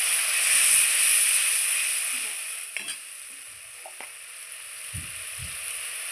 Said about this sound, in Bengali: ওই তেলে ফোড়নে একটা তেজপাতা, শুকনো লঙ্কা, একটু পরিমাণ কালো জিরে দিলাম, দিয়ে আমি সরষে বাটাটা ছেড়ে দিলাম